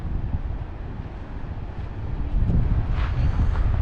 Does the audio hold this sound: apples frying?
no